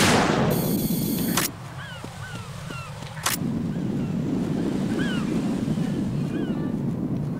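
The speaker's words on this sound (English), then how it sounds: "Che palle sti uccelli di merda" Seagulls cry in the Metal Gear Solid 2 video game, with a few short squawks heard at a distance over steady wind and surf, after a brief mechanical buzz and a dip in the background.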